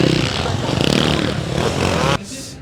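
Enduro motorcycles racing on the beach sand at the Enduropale Touquet, a loud, close engine roar with rough revving that drops off abruptly near the end, mixed with crowd and wind noise.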